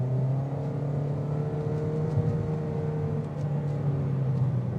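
A 2025 Toyota Corolla SE with a CVT transmission and 169 horsepower accelerates, its engine holding a steady, droning hum with a faint rise in pitch over a constant road roar, heard from inside the cabin.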